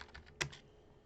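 A few soft keystrokes tap on a computer keyboard, including one sharper press near the middle, faint and close in a quiet room.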